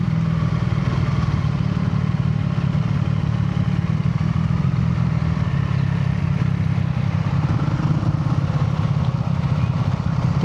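A Yamaha SR motorcycle is ridden through city traffic, its single engine thrumming in a constant low, clattering drone with wind noise, steady and close throughout, with no speech.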